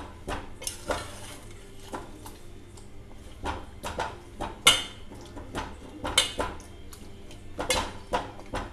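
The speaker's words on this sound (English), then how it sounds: "Like this we have to mix them all." A spoon stirs spices, cumin powder, black pepper, chilli powder and green chilies, into instant lemon pickle made without oil. Repeated close scraping and clinking strokes against a bowl land in an irregular rhythm, loud and clear with no talking.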